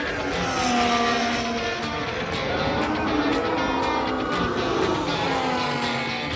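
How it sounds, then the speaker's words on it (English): Formula 1 cars race past at the Japanese Grand Prix, a loud, sustained high-pitched engine whine with shifting pitch and repeated sharp pulses as cars pass nearby. "Iwasa, the Red Bull Junior driver, is actually driving Dan Ricciardo's car in this session"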